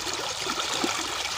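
Water rushes steadily through a field irrigation channel lined with slabs, a continuous broadband flowing noise, close and loud, with no talk.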